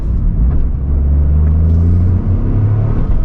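A 2023 Toyota GR Corolla accelerating, heard from inside the cabin as a steady, loud low engine drone and road rumble that climbs gradually in pitch over a few seconds.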